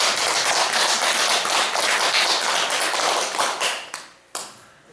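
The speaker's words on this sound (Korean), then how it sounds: "오늘 이해된 사람 박수 한번 치십시오" Audience at a Buddhist dharma lecture clapping together, a dense, loud burst of many hands that thins out and stops near the end, with a final stray clap.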